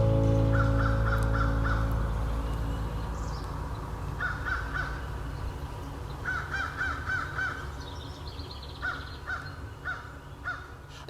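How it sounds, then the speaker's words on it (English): A crow caws outdoors in repeated bursts of three to five harsh calls, moderately distant, over a low rumbling background. "Mr. Crow, I know you've got something to say to me."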